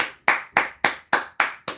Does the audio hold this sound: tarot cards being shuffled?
no